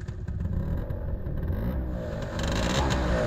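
Vespa S Modern two-stroke scooter engine being revved, a close, loud, clattering motor note that builds and holds with rough rasp and no talk over it.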